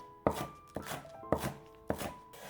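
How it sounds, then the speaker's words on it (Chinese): A knife chops green onions on a cutting board while preparing aromatics, four crisp evenly spaced strokes close up and clear, with no talking. "给它切成葱花。"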